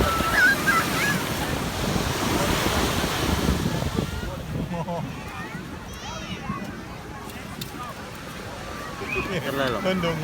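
Sea waves wash onto a sandy beach with a broad, steady rush and wind buffeting the microphone, while voices talk and squeal excitedly over it throughout.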